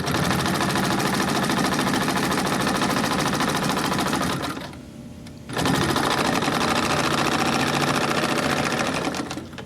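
A National carpet binding machine sews carpet with a fast, loud, mechanical chatter up close. It dips briefly to a softer hum partway through, then resumes its rapid stitching rhythm, and no one speaks over it.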